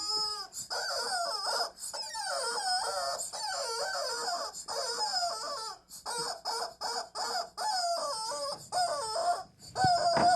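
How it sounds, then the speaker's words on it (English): A chicken making repeated squawking, clucking calls in quick bursts, loud and close, with short pauses between phrases and a brief clatter near the end. "I hate this goddamn chicken."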